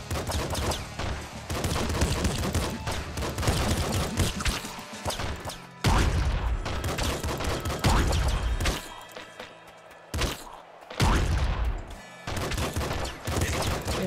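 Rapid bursts of laser pistol fire in Nuclear Throne, dense repeated zapping shots layered over loud game music and effects, with brief pauses between volleys.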